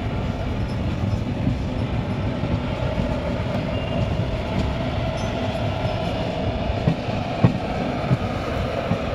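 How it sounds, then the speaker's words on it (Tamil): A train rolls into Madurai railway station, its steady low rumble and wheel noise running continuously and fairly loud, with a few faint clanks and knocks toward the end. "ஸோ மதுரை ஸ்டேஷனுக்குள்ளே என்ட்ரு ஆக போகிறோம்."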